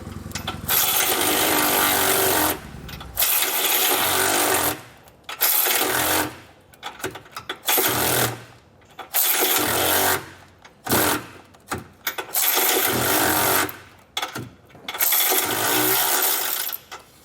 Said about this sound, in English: We'll grab an 18mm size socket and get those removed.